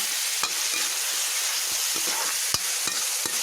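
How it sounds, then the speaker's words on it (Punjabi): Garlic and onion fry in desi ghee in a pan with a dense, steady sizzle, broken by a few sharp scrapes and knocks of a stirring spoon, close and loud with no talking. "ਇੱਧਰ ਆਪਾਂ ਪਾ ਲਿਆ ਘਿਓ ਇਹ ਆਪਾਂ ਦੇਸੀ ਘਿਓ ਪਾਇਆ ਇਹ ਲਸਣ ਤੇ ਪਿਆਜ਼ ਭੁੰਨ ਲੈਂਦੇ"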